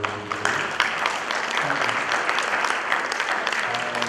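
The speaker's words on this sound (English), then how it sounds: "a great applause for you" An audience applauds a business consultancy keynote, with steady clapping throughout at moderate level and faint voices mixed in.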